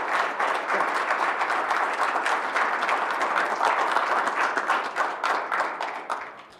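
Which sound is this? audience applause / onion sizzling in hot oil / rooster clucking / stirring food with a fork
audience applause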